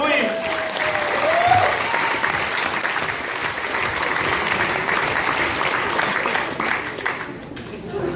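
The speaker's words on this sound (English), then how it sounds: "A round of applause, please." Wedding guests break into sustained, full applause that stays steady and fairly loud, then thins out toward the end.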